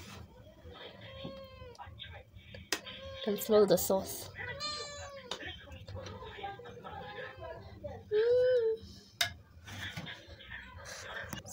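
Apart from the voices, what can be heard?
cat meowing in kitchen during pizza making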